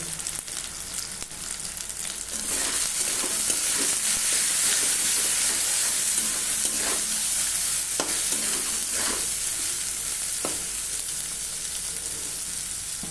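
Chickpea ghugni with salt and turmeric frying in a pan, a strong hissing sizzle that swells after a quieter start, with scattered stirring scrapes, close up and without speech.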